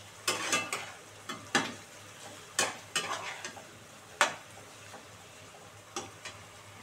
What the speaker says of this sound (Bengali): দিয়ে এবারে এটাকে ভালো করে একটু কষাই।